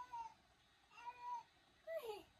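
A house cat gives three short, soft meows spaced apart, faint and close against a quiet room background.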